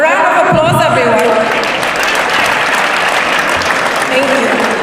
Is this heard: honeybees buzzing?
no